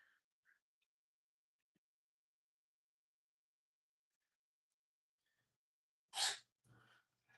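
A single sharp human sneeze bursts out close and loud near the end, followed by a brief breath, after several seconds of near silence during a live art session with Neocolor II crayons.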